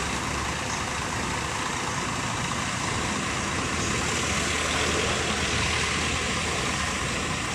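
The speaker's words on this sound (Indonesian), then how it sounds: "mobil ini mundur dulu ya teman-teman ya, biar bisa agak longgar ya untuk keluar ya" Sempati Star bus with its engine running as it reverses out of a cramped depot, heard as a steady, loud diesel rumble with broadband noise. It continues unbroken and no talk is heard.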